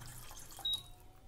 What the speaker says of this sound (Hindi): फ्राई पैन में पानी डालेंगे